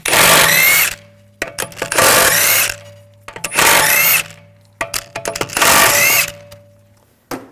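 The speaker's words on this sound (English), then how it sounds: "Using a 17mm socket, take the lug bolts off." Lug bolts on an Audi S4 wheel being removed with a 17mm socket on a power tool, heard as four loud, close bursts of whirring about a second each, separated by short pauses and small clicks.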